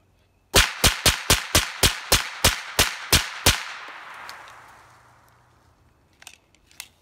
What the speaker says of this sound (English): Sounds like a loud-ass gun, doesn't it?